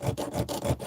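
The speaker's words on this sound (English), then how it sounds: "But we're going to keep sawing a little more." A diamond wire saw cutting back and forth through a metal lock, three rhythmic rasping strokes in quick succession, close and fairly loud.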